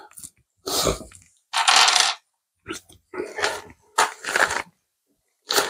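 Loose metal screws are gathered up and put away, making separate bursts of clinking and rattling with short quiet gaps between them and no talking.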